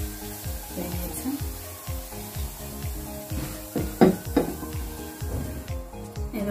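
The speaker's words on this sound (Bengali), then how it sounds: "আস্তে আস্তে কয়েকটা কয়েকটা করে দিয়ে ভেজে নেব।" Shami kababs frying in a pan of oil, a continuous crackling sizzle with intermittent scraping and stirring knocks from a utensil, close and moderately quiet.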